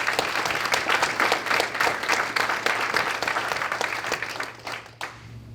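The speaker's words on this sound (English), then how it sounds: "Let's give these honorees a round of applause" Sustained applause for honorees at an education agency's annual address fills the hall, a dense, even roar of many hands that holds steady and then tapers off at the end.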